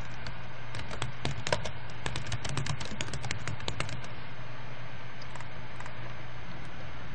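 Keyboard typing in short bursts of clicky keystrokes, close and fairly quiet, entering an axis title in an Excel chart, with a steady low hum underneath and a quieter pause near the end.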